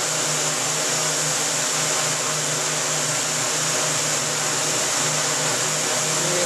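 The motors of a Droidworx SkyJib Lite multicopter drone hold a steady, loud, close whine and buzz under throttle, with a pulsing low hum running through it.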